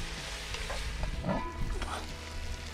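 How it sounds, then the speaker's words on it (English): Chopped potatoes and onion sizzle and crackle in a Dutch oven, a steady close frying hiss with a few light stirring scrapes and no talking. "we're gonna add in the potatoes and the onions"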